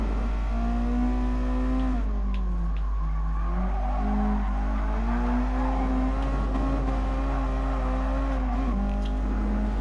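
A car engine revving in Gran Turismo Sport, a sustained tonal drone that rises and falls as it shifts and accelerates, with brief tire squeals mixed in, steady and fairly loud throughout.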